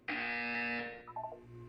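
Electronic buzzer from the Portal 2 video game sounds loud and steady for almost a second, then gives way to a brief warbling tone pattern over a low background hum.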